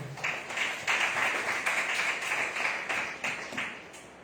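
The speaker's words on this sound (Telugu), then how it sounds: "గట్టిగా చప్పట్లు తట్టు." A church congregation claps loudly together in fast, steady, overlapping rhythm that keeps going throughout.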